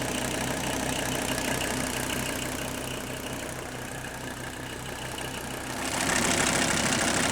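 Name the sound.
old diesel engine idling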